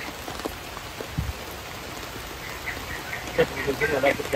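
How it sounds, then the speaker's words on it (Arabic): Heavy rain falls at a bird park in Malaysia, a steady patter of drops on surfaces with a few louder splashes, while faint voices can be heard toward the end. "أنا ما أعرف واضح لكم المطر قوته ولا لا."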